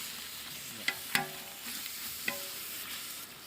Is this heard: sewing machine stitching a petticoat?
no